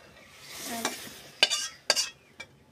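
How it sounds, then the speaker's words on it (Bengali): Bottle gourd leaves fry quietly in a pan under a low sizzle while a metal spatula scrapes and clinks against the pan in three or four sharp, separate strokes. "আজকে লাউ শাক ভাজি করি।"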